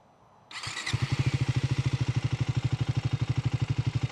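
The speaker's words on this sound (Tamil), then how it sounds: "இதில் எக்ஸாஸ்டோட நோட் எப்படி இருக்குது அப்படின்றத பார்ப்போம்." A Triumph Tracker 400 motorcycle starts up close by: a starter whir, then the engine catches and settles into a steady, rapid, evenly pulsing exhaust beat at idle.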